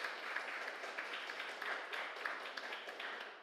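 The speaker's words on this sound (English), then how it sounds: "you don't need to applaud yet" A room of attendees at a COP28 energy transition session in the Nordic Pavilion claps steadily, a soft, distant patter of many hands with no voices over it.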